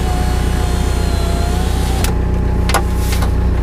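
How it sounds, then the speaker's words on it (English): Electric car windows rolling up, a steady motor whine with the engine running underneath, followed by a few sharp clicks and thumps as the glass seats. "so let me roll them up"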